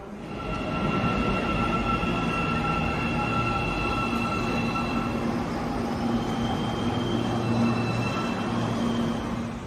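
A subway train on the Almaty metro, a single-line system opened in 2011, rumbles steadily for the whole stretch. It keeps a constant loud roar of wheels and motors with faint tonal whine and squeal above it.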